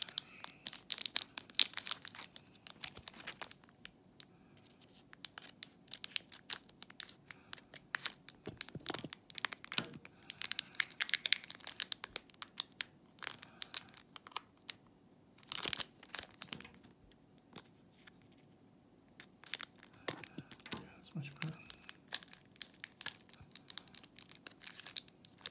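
A Pokémon card pack is cut and torn open with scissors, bringing steady close crinkling and crackling of foil wrapper with sharp snips and rustles in bursts and short pauses, without talk.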